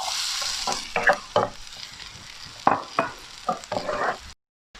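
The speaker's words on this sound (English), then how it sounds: "So when the onions are brown, you add the potatoes." Onion and potatoes frying in a pan for an Afghani egg omelette, a steady close sizzle broken by several scraping stirs of a utensil, ending abruptly in silence.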